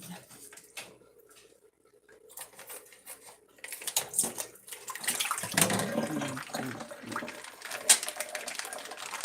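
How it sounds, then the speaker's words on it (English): Tap water runs over a meat package being rinsed in a kitchen sink, starting faint and sporadic, then swelling into a steady, fairly close splashing stream with small plastic crinkles and clatters. "I usually rinse out the package of meat before I throw it in the trash"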